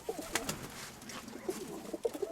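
A pigeon coos softly several times in short, low, throaty bursts, with a few sharper sounds and light background noise between them.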